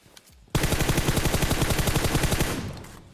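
Fast automatic M4 rifle fire in PUBG Mobile, a loud continuous burst of rapid, evenly spaced shots lasting about two seconds before trailing off.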